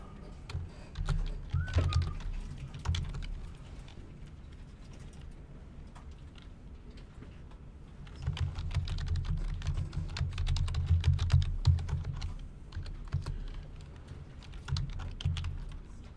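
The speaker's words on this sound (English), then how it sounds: "notice I'm typing here" Rapid clattering keystrokes on a computer keyboard, coming in two busy bursts with a quieter stretch between, fairly close.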